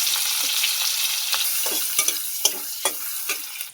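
Onion, chili and panch phoron fry in oil with a steady, loud sizzle and crackle, while sharper spatters and stirring scrapes pop up through the hiss. No one speaks.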